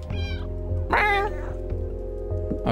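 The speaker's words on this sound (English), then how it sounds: "meow to attract enemies" A cat meows in the video game Stray, two clear, close meows, the second louder and longer, over a steady electronic game hum.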